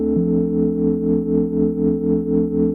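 A sustained chord from the candle glow preset on the Prince synth, a warm steady pad with a gentle rhythmic pulsing swell, heard alone without speech.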